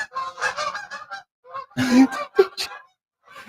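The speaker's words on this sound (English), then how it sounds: "There's the Canadian geese." Canada geese honking as they fly over an outdoor pavilion: a loud, close burst of several rough honks with short gaps, fading toward the end.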